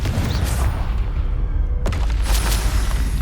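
Confringo explosive spells going off in the video game Hogwarts Legacy, deep rumbling booms with a sharp blast cracking near the middle, loud and dense from start to finish with no speech heard.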